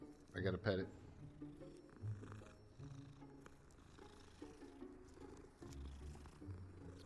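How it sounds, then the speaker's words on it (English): Cat purring while being petted in Hogwarts Legacy, a soft steady rumble running under game sounds and music, with a couple of brief louder bursts near the start. "There's a kitty cat. I gotta pet it."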